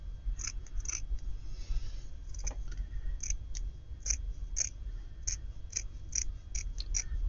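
Scissors cutting store-bought fleece to fit a bed, a steady series of crisp snips, close and clear over a low constant background hum, with no talking.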